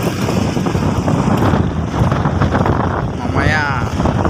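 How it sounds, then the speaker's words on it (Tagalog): Strong southwest monsoon wind (habagat) blasts steadily across an outdoor microphone, a dense rumbling roar with gusty swells throughout, and a faint swooping whistle near the end. "Lumalakas na naman ang habagat mga idol."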